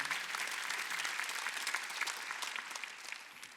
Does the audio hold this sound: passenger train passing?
no